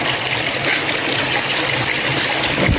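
Cold water flowing steadily at a forest resort, a continuous close rushing trickle that holds an even level throughout with no voices over it.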